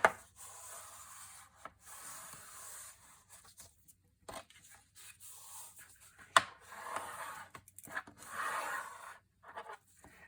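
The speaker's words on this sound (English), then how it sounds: "Now let's take our two long sides and fold them in, give them a nice burnish." Paper being burnished flat along freshly folded long sides while making a legal pad cover, heard as soft, close rubbing strokes in short uneven bursts with brief pauses between them.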